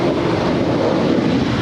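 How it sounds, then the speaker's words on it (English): A 13-year-old United Boeing 737-900ER departing LAX gives a brief, steady, broad jet roar at strong, even loudness. "Departing now is United 2410 off to Houston. It's a 13-year-old 737-900ER."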